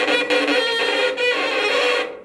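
A violin bowed with heavy, forced pressure gives a strained, gritty sustained tone with scratchy bow noise and brief bow changes, played alone for about two seconds.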